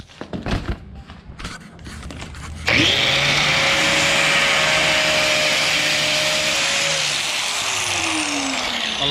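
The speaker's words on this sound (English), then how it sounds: "the easiest way for me without cracking this, because it's very brittle, was to just cut with the grinder" An angle grinder cuts through a brittle plastic Nissan 300ZX taillight lens along a traced outline, a loud steady high-pitched whine with a harsh gritty edge that starts abruptly after some brief handling noises and holds for several seconds.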